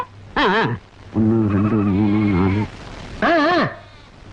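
Goats bleat three times up close, loud wavering cries, the middle one long and steady, with short quiet gaps between them.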